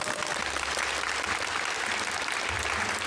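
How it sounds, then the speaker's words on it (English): Audience applause fills a university convocation hall, a steady, dense wash of clapping from a large crowd that holds evenly throughout. "That deserves some applause."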